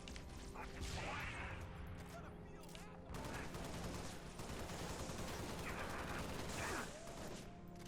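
Rapid bursts of sniper and other gunfire in the Halo Reach game, continuous crackling shots over a busy battlefield din, fairly faint overall.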